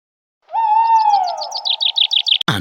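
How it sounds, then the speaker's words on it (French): An owl call in a video game: a single clear call, a long sustained tone that slides down, then breaks into a quick run of rhythmic warbling notes, close and loud, with no voices. "La chouette, elle dort le jour et chasse la nuit."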